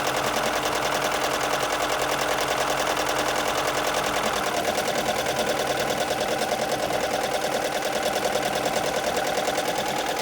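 An embroidery machine stitches out a digitized design on a shirt, its needle hammering in a fast, steady mechanical rhythm close by, the tone shifting slightly about halfway through, with no voices.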